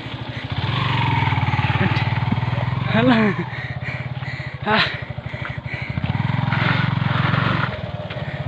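A motorcycle is ridden on a journey around Tapli in Udayapur, with its engine droning steadily and the revs rising and falling while a voice talks over it.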